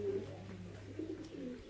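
Thai Titan meat pigeons kept in a breeding loft coo in low, throaty bursts, with several birds calling close by over a steady background hum.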